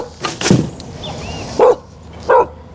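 A dog in a busy park barks a few times, loud and near, with irregular gaps of quiet between the sharp bursts.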